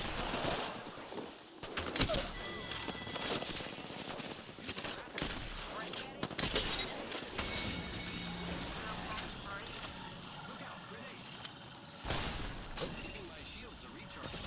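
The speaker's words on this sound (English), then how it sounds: "Opening fire on the enemy." Video game gunfire rattles in repeated bursts amid explosions and impacts in a combat scene, loud and dense throughout, with a spoken voice running over much of the action.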